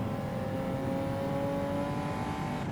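Mitsubishi GTO road car engine droning steadily under load in Gran Turismo 7 at Le Mans, a loud continuous tonal hum holding nearly constant pitch throughout, with no talking.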